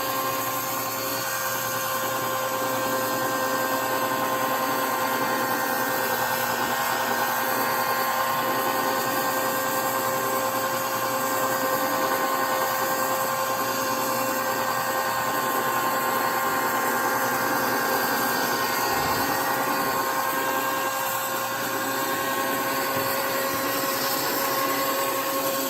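A power polisher buffs the quarter panel of a Buick, giving a steady, continuous whirring drone that holds close and even for the whole stretch, with no voices over it.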